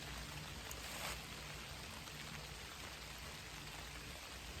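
Steady rain patters down in the forested Great Smoky Mountains during winter camping, a faint, even hiss with no talk.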